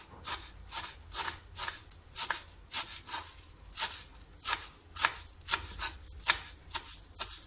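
Rapid, regular knife chops on a cutting board, crisp taps repeating quickly and evenly as dill is finely chopped, close up with no talking.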